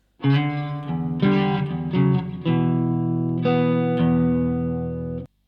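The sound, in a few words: distorted electric guitar riff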